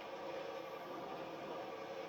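Train in a railway simulator game, a steady broadband rumble and rolling rail noise held evenly throughout, fairly quiet and with no talking.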